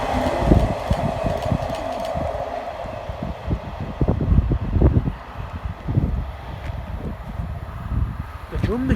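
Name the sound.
British Rail diesel train at station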